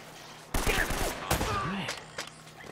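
Gunfire in Uncharted: Drake's Fortune, two loud close blasts about a second apart with debris and echo trailing after, mixed with a brief voice.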